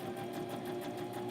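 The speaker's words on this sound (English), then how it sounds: "And now we're just sewing." Sewing machine stitching along fabric covers being lined, a steady, continuous close-up whir with no pauses.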